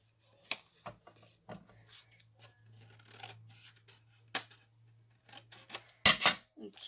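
Scissors snip a piece off some craft material outdoors in winter woods, several short, close cuts and rustles spread across the moment, ending in a louder burst of handling.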